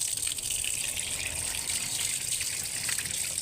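Steady gushing water pours continuously, like a running tap, while a kitten is washed, with no talking over it.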